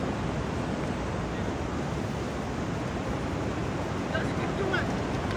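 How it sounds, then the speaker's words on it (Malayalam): Steady broadband surf rolls in at Thikkodi driving beach in Kerala, a continuous wash of waves with wind rumble across the mic and no clear breaks. "നമ്മളിപ്പോൾ ഉള്ളത് തിക്കോടി ബീച്ചിലാണ്"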